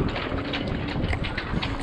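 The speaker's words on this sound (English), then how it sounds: "It's a windy old day" Steady wind roaring and buffeting a microphone outdoors on a windy day by a boat outboard motor, a constant broadband rush with small gusty swells and no voices.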